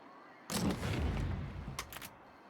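Sustained full-auto submachine gun fire from the Alan Wake American Nightmare video game, one dense rapid burst lasting over a second and fairly loud, followed by a couple of short trailing shots, with no talk.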